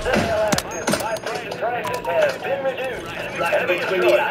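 Gunfire from long-range shots in the video game Call of Duty, sharp bursts spread through the clip beneath a steady stream of talking and game sounds.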